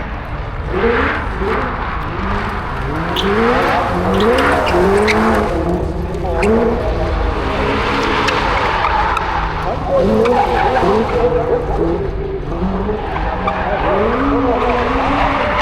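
Cars rev hard and skid with squealing tires over steady engine roar, with a voice talking over it and crowd noise behind.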